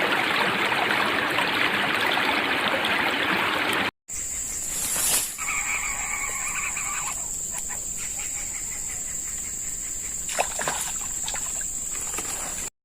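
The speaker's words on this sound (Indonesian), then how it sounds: "Sore itu terlihat Sentot sedang asik memancing di sungai bersama sahabatnya Bimo." A river flows steadily beside someone fishing, a broad continuous wash of water, then after a brief cut a quieter outdoor scene with a constant high insect whine and scattered faint rustles.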